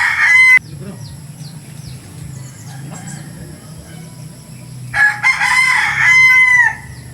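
A rooster crows loudly at the start and again later, with hens clucking softly in between against a low background hum.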